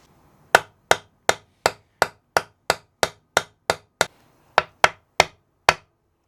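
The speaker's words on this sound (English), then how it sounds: "let's install these bridge studs and get that wrapped up" Bridge studs being hammered into a custom guitar body: about fifteen sharp, evenly spaced metallic-wooden strikes, close and loud, with no talking.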